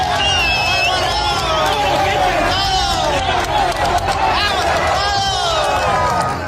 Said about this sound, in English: The onlookers erupt in joy, shouting Sinaloa